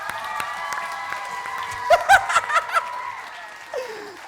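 Audience applause and a burst of laughter and cheering from a school crowd for the Year 1 and Reception teachers, a crackling spread of clapping that peaks midway, then fades.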